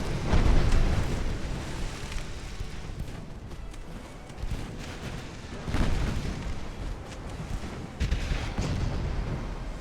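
Naval battle explosions in the warship game Ultimate Admiral: Dreadnoughts, with several deep, rumbling booms rolling through a continuous low roar of gunfire, loudest near the start and again around six and eight seconds.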